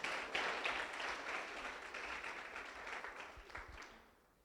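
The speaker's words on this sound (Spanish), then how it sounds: "Denle un aplauso a estos muchachos." A church congregation applauds a group of young men, a dense burst of clapping that starts full and gradually thins and fades toward the end.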